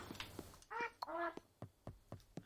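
Ducks in the video game Spirittea: two clear nasal quacks at a fairly quiet level, set among soft clicks and light tapping noises, no talking.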